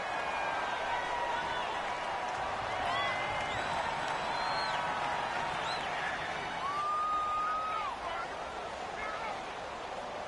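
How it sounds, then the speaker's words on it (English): A football stadium crowd builds into a steady, broad roar ahead of a big third down, with scattered whistles and shouts rising over it while a commentator talks on top. "The crowd getting into it as we come up on a big 3rd down"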